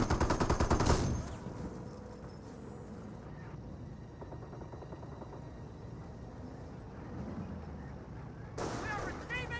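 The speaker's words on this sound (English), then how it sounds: "We are receiving fire!" Company of Heroes battle with a rapid burst of machine gun fire up front, then a continuous rumble of distant artillery and gunfire, with a short voice line near the end.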